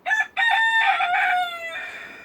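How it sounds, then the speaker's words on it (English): A cockerel crows loudly and close by on an allotment, a short opening note followed by a long, drawn-out cock-a-doodle-doo. "I'm going to strangle that cockerel in a minute."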